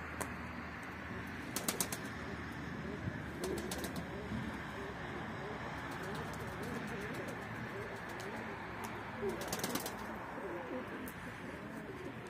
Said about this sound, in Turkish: Dışarı kuş çıkarıyorum. O da kalkıyor.